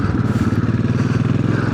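A Royal Enfield Classic 500 on its first ride of the year throbs with a loud, close, steady run of rapid thumping engine pulses.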